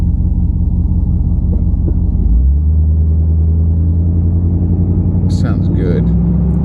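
An old barn-find Buick engine, long unused, idles with a low, steady rumble close by, its pitch dropping and settling partway through; faint brief sounds near the end.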